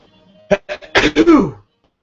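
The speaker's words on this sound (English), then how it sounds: "I probably have to sneeze." A few short breathy catches build into a single sneeze, close and fairly loud, followed by quiet.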